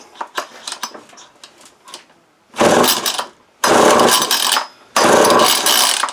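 A vintage 40-year-old Craftsman 22cc clutchless string trimmer being pull-started: a few light clicks and rattles, then three long, loud bursts of rough rasping noise from repeated hard pulls, each ending abruptly, close up.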